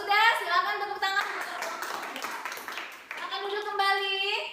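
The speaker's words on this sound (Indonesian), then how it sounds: "kalau sudah silakan tepuk tangan" Students clapping in a classroom, a brief burst of hand claps in the middle, framed by voices talking before and after it.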